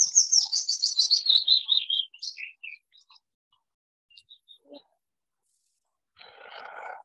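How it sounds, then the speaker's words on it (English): A willow warbler sings a clear descending phrase of sweet, high notes in scrubland, followed by a few faint scattered chirps and a brief burst of other noise near the end. "this is a willow warbler"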